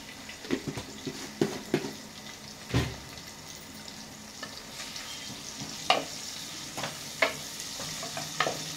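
Onions sizzle softly in a pan while a spoon stirs them, bringing repeated scraping knocks against the metal at an irregular pace throughout, with no voices.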